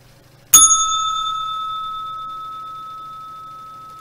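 A single bright bell strike rings out close and clear, its metallic tone sustaining and slowly fading over several seconds in otherwise quiet surroundings.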